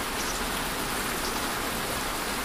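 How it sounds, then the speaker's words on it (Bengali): Heavy storm rain pours down as a steady, even hiss, moderately faint and unbroken, with no voices or distinct thunder. "এদিকে ঝড় বৃষ্টি থামার তো কোনো চান্স নেই"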